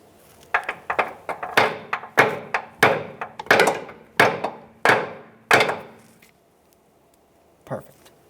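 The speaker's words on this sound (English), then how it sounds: "For this, I'm going to use a hammer." A hammer strikes a washer repeatedly to peen it into the inner tie rod groove on a 2012-2015 Honda Civic. About a dozen sharp metallic blows land close by in a steady rhythm, followed by a short pause and one last lighter hit.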